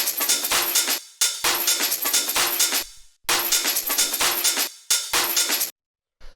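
Crunchy, heavily saturated breakbeat at 130 BPM for modern rave techno, with layered hi-hats and claps driving dense, bright hits; the loop plays loud and alone, dropping out in short gaps between phrases.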